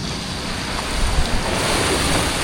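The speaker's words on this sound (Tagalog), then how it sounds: "Alon." Ocean waves wash and surge against a steady windy roar at Pinagbayanan, swelling a little louder toward the end.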